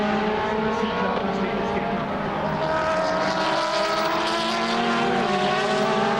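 DTM touring race cars in 2010 at Valencia weaving about on track, a sustained high engine whine with shifting harmonic tones, loud and continuous with a commentator talking over it.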